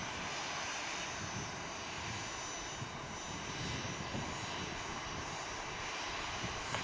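An aircraft engine runs at Manchester Airport, a constant broad roaring drone with a steady airy hiss, heard from some distance and holding level throughout.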